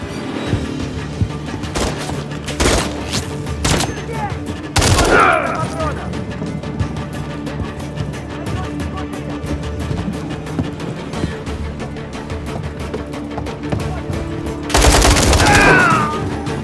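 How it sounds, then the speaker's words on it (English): Gunfire in the Call of Duty Modern Warfare 3 video game: sharp bursts and single shots crack out loud, with two heavy blasts and a busy battle din between them. "There's enemy fire!"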